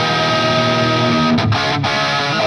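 A distorted electric guitar, a 1977 Ibanez 2550 Les Paul Custom, plays loud and steady with a thick, sustained crunchy tone, with two brief dips in the middle of the passage.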